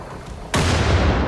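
A grenade explodes in the video game Wolfenstein: The Old Blood, a sudden loud broadband blast that cuts in midway and rolls on as a sustained roaring rumble with no talk over it.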